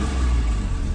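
A car engine starts and idles steadily after a jump start from a Utrai portable jump starter, a continuous low rumble heard up close with no talk.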